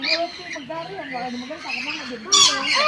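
Birds squawk in a bird park aviary while they feed, with shrill, wavering calls close by, mixed with people talking, and a sharper burst near the end.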